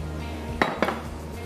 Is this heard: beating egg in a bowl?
yes